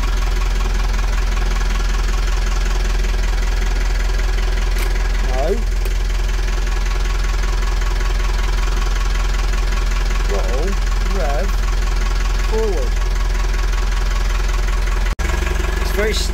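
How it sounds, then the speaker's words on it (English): Narrowboat engine running in gear, a steady loud low chug throughout, with someone talking faintly over it. "That's a sweet engine, that is. Lovely engine."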